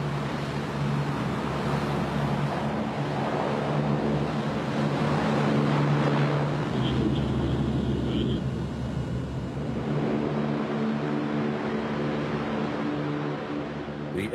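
A US Navy LCAC hovercraft, a 100-ton craft driven by four 4,000-horsepower gas turbine engines, gives off a continuous loud roar and whine with a steady low hum, sustained throughout without break.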